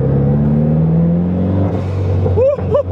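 A Volkswagen Mk3 car engine drones loud and close from inside while driving, pitch climbing steadily as it revs up, then dropping near the end with a brief voice over it.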